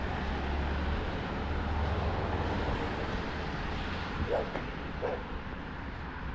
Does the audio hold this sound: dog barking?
yes